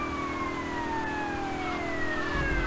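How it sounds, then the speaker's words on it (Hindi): Police car siren wailing in the GTA Vice City video game, two falling siren tones sweeping steadily over a constant steady engine drone, loud and continuous with no talk. "तो पुलिस की गाड़ी सायरन बजा के चला रहे हैं गाइस हम लोग"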